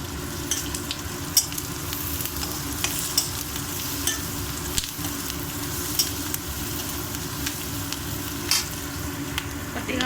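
Brinjal curry being stirred in a frying pan, with a steady sizzle and hiss of oil throughout and repeated soft scrapes and clinks of the spoon against the pan, close up and with no talking.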